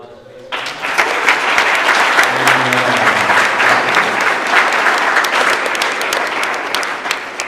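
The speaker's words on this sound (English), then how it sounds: "let's give a big round of applause" Sustained audience applause at a photography and visual culture conference session, steady clapping from a room of people starting abruptly and holding evenly to the end, with a low voice briefly audible underneath.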